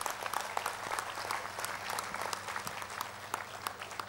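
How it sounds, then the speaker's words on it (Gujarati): A large audience at a Shrimad Bhagvat Gyansatra religious discourse breaks into sustained, dense applause, steady and fairly loud throughout, with scattered sharper claps standing out. "અને છેલ્લે એક જોરદાર તાળીઓના ગડગડાટ તમારા માટે"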